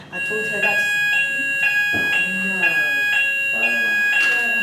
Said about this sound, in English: I do believe that is the fire alarm.